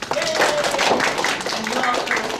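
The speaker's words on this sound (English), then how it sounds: "So round of applause and snaps for all these people doing the work." Audience at a talk clapping and snapping fingers together, a dense, steady patter of many hands and snaps that holds for a couple of seconds, with a voice faintly mixed in.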